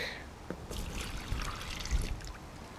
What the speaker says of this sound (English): pour the water back